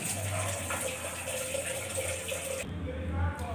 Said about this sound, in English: First, fill the water in the vessel.